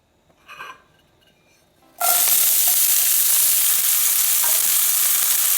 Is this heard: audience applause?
no